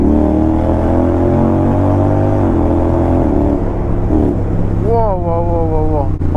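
A Yamaha X-ADV scooter on the Paris ring road at night drones loudly and steadily, close up, then revs in quick rising and falling sweeps toward the end.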